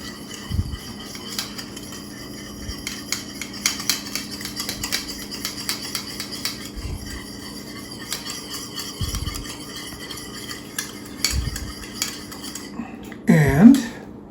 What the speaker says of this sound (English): We need to give that a stir.